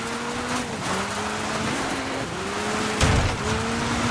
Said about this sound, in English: I'm handbrake turning